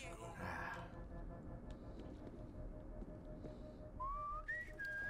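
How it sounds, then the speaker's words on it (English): Faint whistled notes rise out of a constant, noisy World War Z zombie-horde soundscape, a few short tones near the end, with voices talking intermittently over the game sound. "Who just whistled?"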